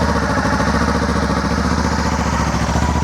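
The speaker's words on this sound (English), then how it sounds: "put it back into combustion engine mode and it's in neutral, so we'll start the bike and this is what it sounds like" A 2024 Kawasaki Ninja 7 Hybrid, switched to combustion engine mode and sitting in neutral, idles with a steady, close, loud mid-pitched putter and some mechanical clatter, without any voices.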